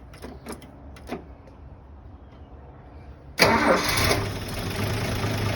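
A cold 1974 Toyota FJ40 engine is started outdoors. Starter clicks and faint cranking come first, then the engine catches with a loud burst and settles into a rough, steady idle.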